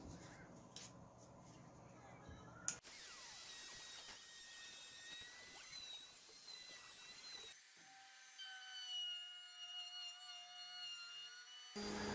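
A Bosch trim router with a small roundover bit rounds over the wooden edges of a table saw sled, coming in several short bursts of rough, whirring cutting noise with abrupt changes between passes.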